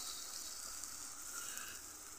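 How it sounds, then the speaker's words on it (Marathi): Masala sizzling softly in oil over a low flame for sprouted moth bean curry, a steady close hiss with no talk. "छान असा भाजून घेऊयात मसाला"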